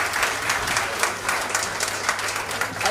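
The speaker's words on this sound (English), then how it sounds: "Can you give him another round of applause" An audience at a graduation reception for special needs students claps steadily, a dense continuous patter of many hands filling the room, moderately loud throughout.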